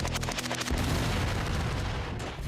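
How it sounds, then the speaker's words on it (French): Real firearms fire live rounds in a rapid burst of loud, close shots that crack and boom in quick succession, then trail off into echo. "Toutes les balles sont réelles, les armes aussi."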